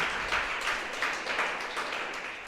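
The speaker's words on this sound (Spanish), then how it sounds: "Dele un aplauso a Él." Applause from a church congregation during a worship service, a steady wash of many hands clapping at moderate distance, fairly soft and continuous throughout, with no voices over it.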